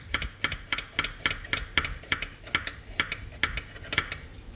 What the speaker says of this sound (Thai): เราจะหั่นหน่อย